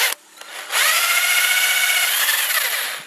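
Power drill boring through a servo bore on a 5R55S transmission from a 2003 Explorer 4.0, a brief whine followed by a steady, loud drilling drone lasting a couple of seconds.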